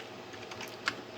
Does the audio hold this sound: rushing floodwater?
no